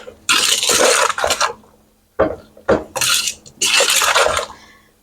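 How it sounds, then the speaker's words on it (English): Fruit pectin being stirred into peach jam in a cooking pot, with bursts of scraping and clinking against the pot in several loud close spells separated by brief pauses. "Okay, so stir in the fruit pectin."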